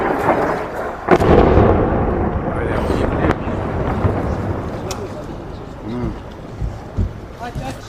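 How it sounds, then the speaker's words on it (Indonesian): Deep rumbling booms of explosions roll across the city of Beirut, Lebanon, with a sharp blast early on and voices audible in the background. "suara ledakan terdengar di berbagai area kota Beirut"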